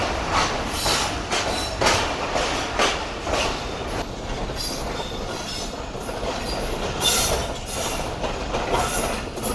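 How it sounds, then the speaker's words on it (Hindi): The Sukkur Express runs at speed, heard from on board as a steady rolling rumble with rhythmic clickety-clack of wheels over rail joints and occasional squeals, no voices. "ट्रेन ने रोड़ी जंक्शन को अलविदा कह दिया और अच्छी स्पीड में आ गई है ट्रेन निकलती"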